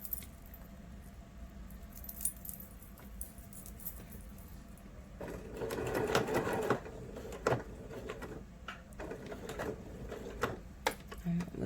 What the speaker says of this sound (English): you can go to the edge of your pocket and you can go ahead and sew all the way around the edges